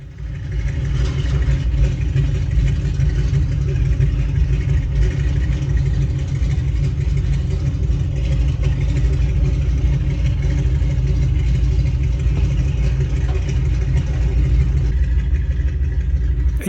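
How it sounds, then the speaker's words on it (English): A warbird aircraft's engine and propeller idle at an aerodrome, a steady, loud, low rumbling drone with a throbbing beat that holds unchanged throughout, with no voices. "that Warbird engine surely does have a nice sound to it"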